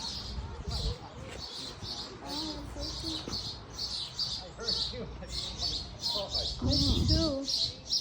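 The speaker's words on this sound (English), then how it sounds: "Oh, there's bird here." Small birds chirp and tweet in quick repeated bursts throughout an outdoor Amish village, while people talk and move about nearby.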